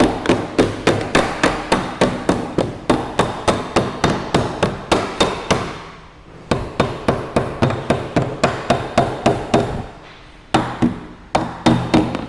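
A hammer pounds on an aluminum ventilation cover in rapid, regular metallic strikes, loud and close, with two short pauses before the blows resume.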